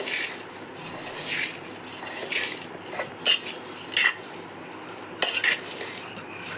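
Puffed rice (muri) being tossed with chanachur in a bowl, a steady dry rustle and scrape with several sharper clinks of a spoon against the bowl, close and alone without speech.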